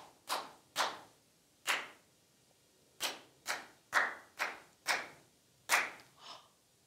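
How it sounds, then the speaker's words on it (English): A single person claps a rhythm pattern for a children's music lesson, nine crisp, close hand claps in an uneven grouping with short pauses between them, alone with no talk. "I want you to listen carefully while I clap these bugs and listen for the missing bug."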